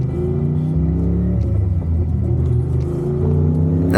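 Mazda FD RX-7 fitted with an LS1 V8 on its first drive at a Powercruise event, a loud, steady low engine rumble with rising revs throughout, close and continuous with no talking.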